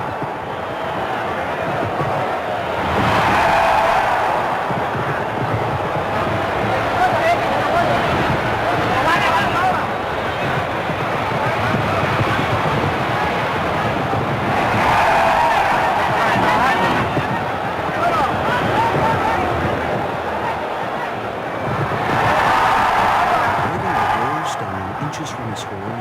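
Shouting crowd at a bullfight, with swells of voices rising and falling in waves over a continuous babble, loud and fairly near, in repeated bursts lasting several seconds.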